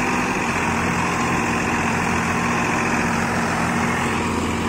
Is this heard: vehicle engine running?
yes